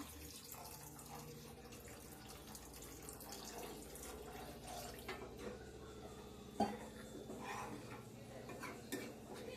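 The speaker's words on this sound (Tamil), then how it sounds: "தேவையான அளவு தண்ணி ஊற்றிக்கலாம்." Water is poured into a pot of tamarind fish curry on a home stove, a quiet running trickle with a few soft clinks of utensils against the vessel, close and faint.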